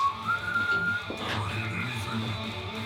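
A Black Knight Sword of Rage limited edition pinball machine gives a whistle callout: a steady high whistle tone rides over the machine's background music and effects, fairly loud and close.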